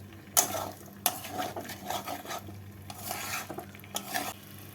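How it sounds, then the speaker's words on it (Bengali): Potatoes for a white potato curry are stirred in a pan, with metal spatula scrapes and clanks coming in bursts over a low sizzle. The sound is close and there is no speech. "আলুর সাথে ভালো করে মিশিয়ে নিয়ে দুই থেকে তিন মিনিট নাড়াচাড়া করে নিতে হবে"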